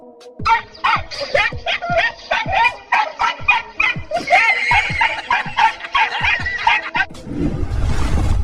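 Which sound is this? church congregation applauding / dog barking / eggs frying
dog barking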